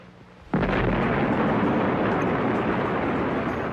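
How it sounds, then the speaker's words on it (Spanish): A nuclear bomb test explosion in the Nevada desert from the 1950s erupts suddenly into a massive, sustained roar of blast and rumble that stays loud and unbroken after the initial burst. "Ver la explosión de una bomba en el desierto de Nevada"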